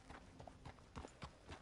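Horse hooves clip-clop in a video game, a steady run of evenly spaced hoof strikes over a continuous noisy game background, fairly close and alone with no talk.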